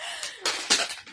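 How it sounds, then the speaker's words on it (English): A rat terrier crunching and biting on a plastic water bottle, giving a few sharp crackling crinkles in quick bursts, fairly close and alone. "He's actually crunching on a water bottle right now."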